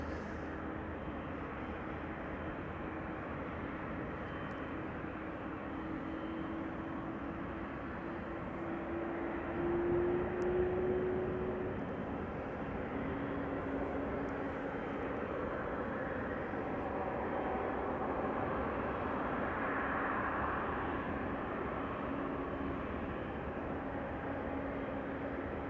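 KLM Boeing 777-300 taxiing out at Amsterdam Schiphol for a flight to Lima: a steady, moderately loud jet engine rumble and whine holds throughout, swelling briefly around the middle with a passing tonal note, no talk.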